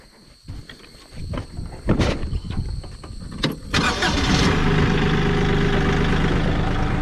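A Kioti tractor's engine cranks with a few uneven starter bursts, then catches and settles into a loud, steady idle close by, with no talking.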